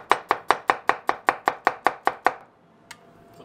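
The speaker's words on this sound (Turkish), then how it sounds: "Şimdi soğanımızı doğrayalım." A knife chops an onion into thin half-moons rapidly on a cutting board, about a dozen crisp, evenly spaced strikes, then stops, followed by a single soft tap.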